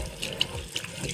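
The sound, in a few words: water running from a bathroom sink faucet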